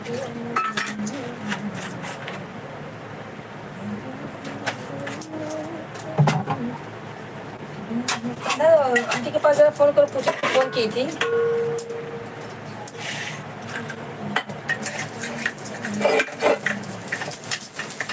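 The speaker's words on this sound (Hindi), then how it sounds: "हम चल रहे हैं बर्तन धोने" Dishes, pots and steel utensils are washed by hand, with repeated clinks and clatters of metal against metal under running water, while someone talks over the sound.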